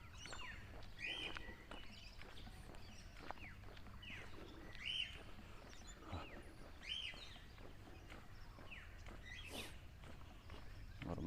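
Common mynah birds call in repeated chirps and squawks along a residential back street in East Innisfail, heard at moderate distance over steady footsteps and quiet outdoor background.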